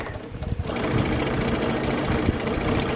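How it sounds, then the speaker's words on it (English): A sewing machine stitches fabric about an eighth of an inch from the edge, its needle running in a steady, fast mechanical chatter after a brief hesitant start, loud and close throughout. "I'm just sewing this down about 1/8 of an inch, just close to the edge, and just keeping my needle down"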